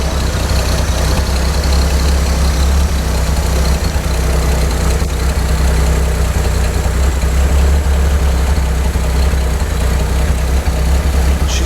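A 1942 Chevy G-7107 cargo truck engine idles with a deep, steady, loud rumble that stays unbroken and even throughout, with no talking over it.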